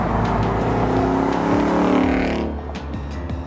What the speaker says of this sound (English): We're here today at Gingerman Raceway testing our new 2015 Roush Mustang.